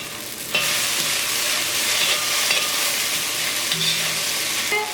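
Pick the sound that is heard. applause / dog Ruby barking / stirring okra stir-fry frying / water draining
stirring okra stir-fry frying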